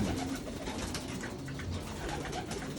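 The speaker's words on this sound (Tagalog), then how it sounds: "Ito yung mga anak ng mga dati kong kalapate na naiwan ko po rito." Pigeons kept in a loft cooing continuously, with soft, low, overlapping burbling calls from several birds close by.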